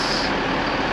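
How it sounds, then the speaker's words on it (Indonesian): A Mercedes-Benz OH1626 bus with Adi Putro Jetbus 3 bodywork, bound for Bandung, gives a steady, close engine drone with broad hiss and rumble that holds evenly throughout, with no talk over it. "Kalau ini bisnya Mercedes-Benz OH1626 ya, Jetbus 3 Adi Putro"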